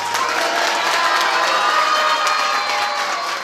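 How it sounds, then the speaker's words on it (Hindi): An audience at a live talk shouts and claps together, a steady dense roar of cheering and applause that holds loud from start to finish with no speech on top. "और जैसे बैठ रहे हैं चिल्लाकर ताली बजाएंगे।"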